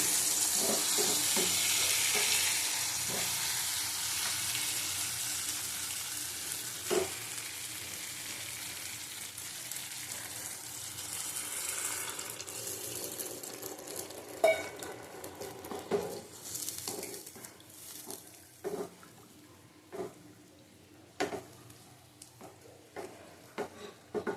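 Potatoes sauté in a pan for a Bengali raw banana and potato curry, with a steady sizzle that fades while a spoon stirs and scrapes in irregular clicks and knocks, close and moderately quiet.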